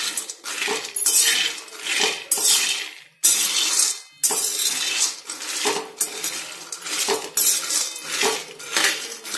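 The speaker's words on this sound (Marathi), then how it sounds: "थोडी कढई गरम झाली की हलवत राहावं, जेणेकरून आपले शेंगदाणे डागणार नाहीत" Peanuts roasting in a hot kadhai being stirred with a metal spoon: repeated loud, close scraping and rattling strokes in an uneven rhythm, with a brief pause midway.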